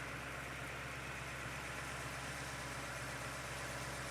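A rebuilt car engine with a repaired broken block idles on a test run, a steady low hum with an even rumble and no change in pace, close and constant.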